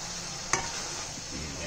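Carrots and beans are stirred in a hot pan for pansit, with a low continuous sizzle broken by one sharp utensil scrape or clack, close and alone.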